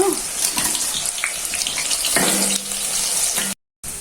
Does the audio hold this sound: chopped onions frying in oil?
yes